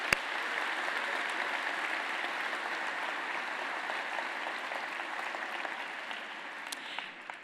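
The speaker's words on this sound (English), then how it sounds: "So let's give them a round of applause" An audience at a D-Day commemoration and museum anniversary celebration applauds steadily throughout, a dense even wash of clapping that starts abruptly and holds at a moderate level without talk.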